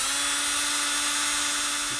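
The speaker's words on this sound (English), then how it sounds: "this little attachment for your drill, it's by Music Nomad, comes in pretty darn handy" A drill fitted with a Music Nomad string winder attachment spins steadily for about two seconds, a constant high-pitched motor whine with no speech, heard while restringing a 2006 Fender Highway One Telecaster.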